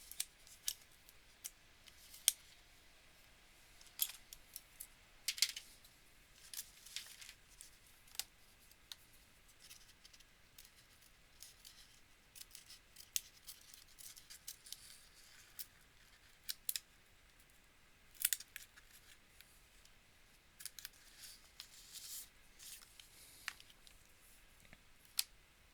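Scissors snip through a paper journaling tag in a run of short, crisp cuts, quiet and close with irregular pauses between strokes and no talking.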